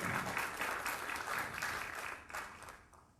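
Audience applause at a political forum held as a constitutional debate in Peru, a sustained patter of many hands clapping at moderate distance that slowly fades out.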